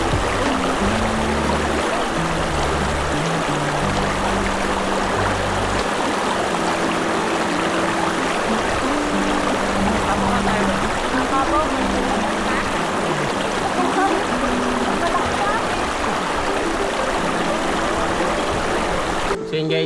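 A river at a nature camp in Tanay, Rizal flows with a continuous close babble and splash, while people talk and sing over the water throughout.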